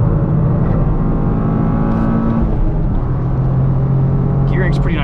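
A 2023 Toyota GR Corolla engine drones loudly on a race track, a dense continuous roar whose pitch climbs and then drops mid-way before rising again, with a voice talking over it.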